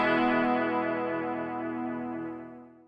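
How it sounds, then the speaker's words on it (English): A single strummed electric guitar chord with a crisp, clean tone rings out loud and close, then decays slowly over about three seconds with a slight shimmering, chorus-like quality. "electric guitars have a variety of sounds, ranging from crisp, clean sounds,"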